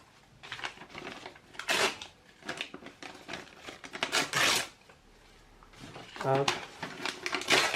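Paper is torn into large strips for a decor, giving repeated rough ripping bursts, close and fairly loud, with short pauses between tears and a brief spoken word.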